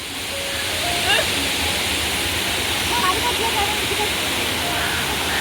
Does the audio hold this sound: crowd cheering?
no